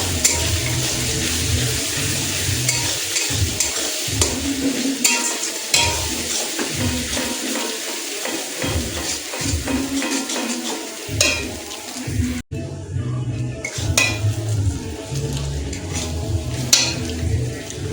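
Spice paste being fried and stirred in a pan for mutton, continuous sizzling with repeated scraping and spoon knocks, a short pause near the end before the frying resumes.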